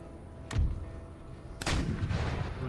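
Line infantry muskets discharge in Empire Total War, a battle near a city against militia: a sharp volley burst at the start, then a second, louder and longer ragged volley of overlapping shots with booming rumble that trails off.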